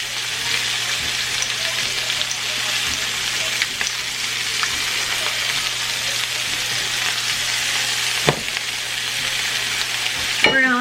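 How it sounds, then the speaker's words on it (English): Meat sears in a frying pan with a dense, continuous sizzle and crackle, salted and peppered, with a few sharper pops and clinks near the end and no voice over it. "We're going to let this cook for a few minutes on each side to get a good sear"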